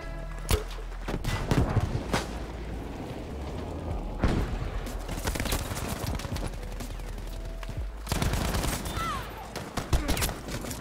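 Battlefield V multiplayer combat with repeated close and distant gunshots and bursts of rifle fire, a few heavy booms, and a busy, continuous battlefield din.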